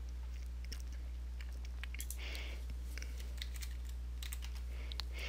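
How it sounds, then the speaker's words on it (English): Fingers typing on a computer keyboard, quick uneven clusters of light, close key clicks over a steady low electrical hum, no voices. "I just type in something"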